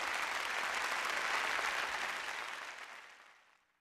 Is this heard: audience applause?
yes